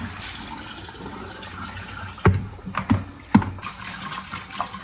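Water running steadily from a tap while strawberries and blueberries are rinsed, a soft continuous flow broken by a few louder splashes and knocks near the middle.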